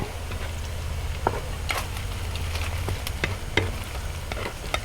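Chopped garlic and green chilies frying in a pan for a fried-coconut fish curry, a steady close sizzle with occasional scraping stirs and light clicks, no talking.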